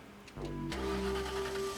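A car engine starts with a quick crank and settles into a steady running hum, heard close and alone for under two seconds with no talk.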